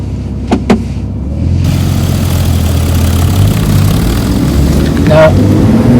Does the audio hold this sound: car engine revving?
yes